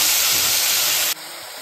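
Tomatoes drop into onions frying in hot oil for methi pappu, a loud close hiss that cuts sharply to a quieter, steady sizzle partway through.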